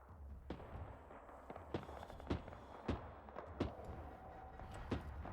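BTR armored vehicle cannon firing in a military video game battle, a series of sharp, fairly distant thumping shots in irregular bursts, about a dozen in all, over a low background rumble.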